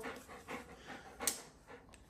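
A nine-year-old dog pants in quick, rhythmic breaths at close range, with one sharper gasp partway through; no one speaks.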